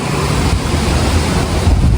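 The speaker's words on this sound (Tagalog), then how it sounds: "Narinig niyo ba yung hangin mga kigwars?" Steady, loud wind roars and buffets against the microphone in Japan for the whole stretch, a constant low rumble with no voices.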